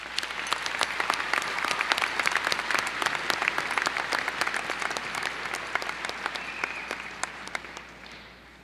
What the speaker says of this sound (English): Students, please join me in giving our parents a round of applause.